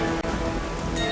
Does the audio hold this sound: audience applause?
no